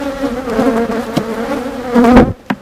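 Honeybees hum in a close, loud, steady drone around an open hive during an inspection, with a few sharper bumps and a brief louder swell near the end.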